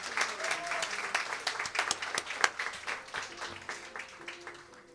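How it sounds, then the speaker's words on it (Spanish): Audience applause after a horror story at a live comedy show, a dense, steady wash of clapping from a crowd that holds for the full stretch and fades slightly at the end. "Fuerte aplauso para la primera historia, Fex."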